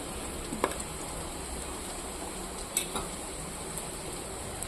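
Onions fry in a pan for tomato chutney with a steady close sizzle, and occasional sharp clinks of a spoon against the pan break through.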